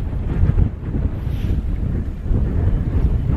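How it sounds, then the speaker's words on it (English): Strong wind in the Carneddau mountains of Snowdonia, on a misty day, buffets the microphone with a continuous low rumble and roar, steady and loud throughout, with no voices. "It's a bit claggy, windy."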